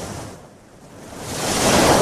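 Ocean wave sound effect played on a morning radio show, a broad rushing surf that dips to a low hiss, then swells steadily louder like a breaker rolling in, alone with no talk.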